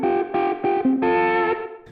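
An electric guitar plays a short seesawing lick through distortion and chorus effects, a few quick repeated notes then a longer sustained one, loud and close with no voice.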